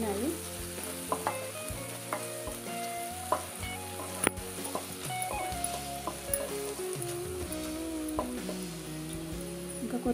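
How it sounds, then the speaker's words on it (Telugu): Chopped onions fry in a pan for a spicy prawn fry, giving a soft, continuous sizzle with occasional light stirring clinks, quiet and fairly close, with no talk. "ఇంకా కొద్దిసేపు వేయించుకుందాం."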